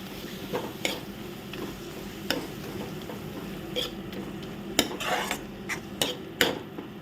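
Kordoi pieces and mashed boiled potato fry in a pan with a soft, constant sizzle, while a utensil stirs and scrapes and gives sharp metallic clinks at irregular intervals, close by.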